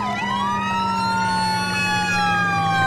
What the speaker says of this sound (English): What the heck is this fire truck doing?